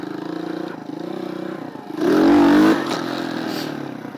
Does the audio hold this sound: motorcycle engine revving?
yes